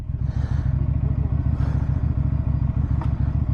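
A 2023 QJ Motor SRV300 cruiser motorcycle engine running, a loud, close, steady low burble with a continuous rumble and slight mechanical clatter, no speech.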